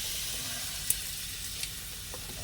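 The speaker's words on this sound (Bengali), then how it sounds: "এই তেঁতুলটা তুলে তুলে হাতা করে এর মধ্যে দিয়ে নেব।" Tamarind is ladled into a hot frying pan for Barishal-style shukto, producing a soft, continuous sizzle with a few small ladle taps against the pan.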